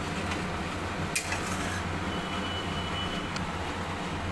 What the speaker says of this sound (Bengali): এবার নাড়িয়ে দেবো ভালো করে।